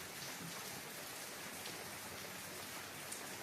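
Rain falls steadily on green trees and leaves, a soft continuous hiss of drops on foliage with no voices, even and unbroken throughout.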